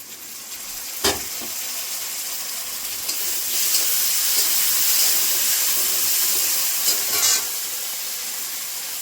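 Tomato and ginger sizzle in a pan with already fried onion, garlic and green chilli, a steady hissing fry with a few sharper crackling bursts, close and fairly loud, no talking.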